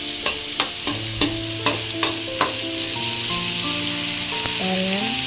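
Food for thakkali thokku sizzles in a pan, a steady frying hiss broken by several sharp clanks of a spoon stirring against the pan early on, close and moderately loud.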